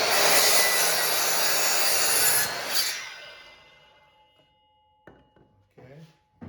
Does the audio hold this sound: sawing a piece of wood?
yes